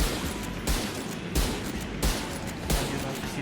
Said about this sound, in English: just doing my little strafe shooting thing here